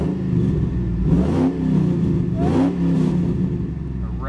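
A 2003 Ford F-150 Harley-Davidson Edition pickup engine rumbles steadily and revs up a few times, the pitch rising in short swells over a constant low drone.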